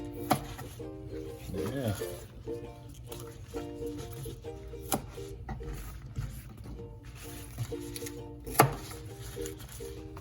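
A knife cuts the stems off taro leaves for Hawaiian oxtail laulau. A few sharp, separate cuts come seconds apart over a steady low background, and a voice speaks briefly.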